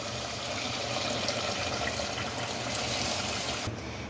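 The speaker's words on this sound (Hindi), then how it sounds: "अब इसके अंदर 2 गिलास गर्म पानी" Hot water pours steadily into a cooking pot of mutton kunna, a continuous close splashing fill that cuts off near the end.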